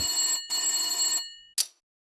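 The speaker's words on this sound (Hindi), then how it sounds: "मैं उनको टेलीफोन करता हूं" An old-style telephone bell rings in two long trilling bursts with a short gap, followed by a brief click as the receiver is picked up.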